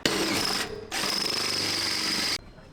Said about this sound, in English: I'm now just going to drill these holes out to 8mm